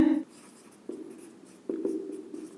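A pen writing out a math equation on paper for a class 10 lesson, heard as soft scratchy strokes in short bursts separated by brief pauses, close up and quiet, with no talking.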